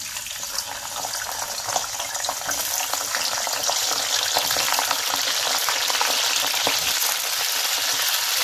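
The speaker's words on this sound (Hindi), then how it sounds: "तेल में हमको ये फूल गोभी को फ्राई कर लेना है" Cauliflower florets fry in hot oil for a Sindhi potato and cauliflower dish, giving a loud, steady, close-up sizzle that builds slightly and continues without pause, with no talking.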